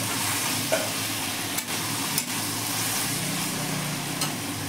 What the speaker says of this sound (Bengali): সরষে বাটা দিয়ে ভালো করে নেড়ে নেব